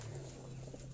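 A pigeon coos softly, a low, steady hum heard close for about a second.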